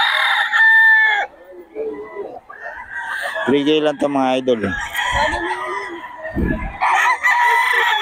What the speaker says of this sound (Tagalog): magulo itong manok na ito